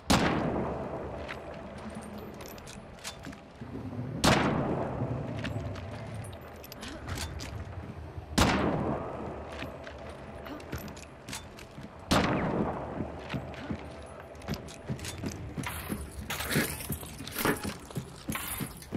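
Martini rifle gunfire in a shooting video game, heavy booming shots spaced a few seconds apart, each with a long ringing tail, followed by quicker overlapping shots near the end, with faint talk in the background.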